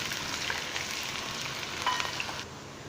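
Onion frying in hot oil for a chicken and turnip curry, a soft, even sizzle that holds steady and then drops slightly near the end.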